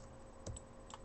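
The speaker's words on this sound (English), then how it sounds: "And tap 3 on my keyboard" A single key tapped on a computer keyboard during 3D modeling work, two soft, close clicks against a quiet room hum.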